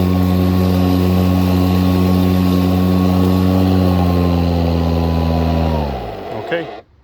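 A Toro 60V Vortex 22-inch Recycler electric lawn mower runs with a loud, steady motor whine that holds for several seconds, then winds down and cuts off near the end.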